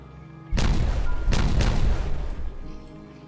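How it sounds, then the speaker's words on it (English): Explosion in the beaver city-building game Timberborn on a hard-mode Helix map, a sudden loud boom followed by a second blast and a rumbling tail that fades out. "ready for this big kaboom?"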